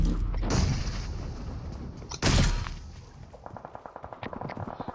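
Gunfire and a grenade blast in the mobile battle royale game BGMI: loud bursts and booms, then a rapid run of sharp shots fading into rhythmic clicks and mechanical rattles.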